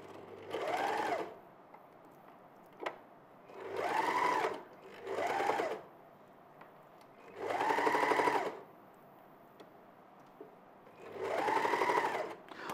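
A sewing machine stitches fabric for a bag in five separate bursts of rapid mechanical whirring, each a second or two long with quiet pauses between, close and clear with no talk.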